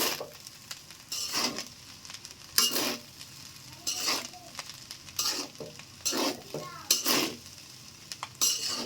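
Chicken fried rice with tomato sauce is tossed in a pan, with repeated loud scraping spatula strokes roughly once a second over a continuous frying sizzle, recorded up close with no voices.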